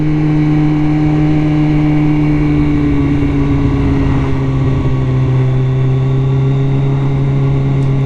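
A Kawasaki ZX14 motorcycle on the move, with a loud, steady engine drone at an even pitch that holds from start to end, heard close with a constant rush of wind and road noise.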